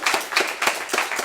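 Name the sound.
audience applause for a live performance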